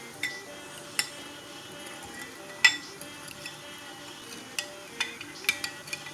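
A spoon stirs salt into water in a bowl for couscous, making faint sloshing with sharp little clinks against the bowl's side at irregular intervals, quiet and close.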